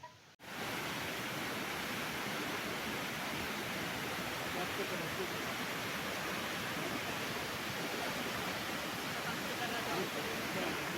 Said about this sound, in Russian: А это место называется Пилигримы и красавец водопад.